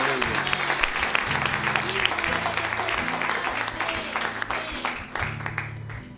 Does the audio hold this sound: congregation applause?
yes